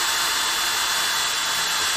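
Power drill boring a pilot hole into a stainless steel kitchen backsplash in a Sprinter/Crafter van conversion, a steady high-pitched whine running unbroken and loud for the whole stretch.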